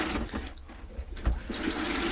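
Water runs from a newly fitted tap in a caravan bathroom, a close, steady rushing splash that briefly dips before surging back, with no voices.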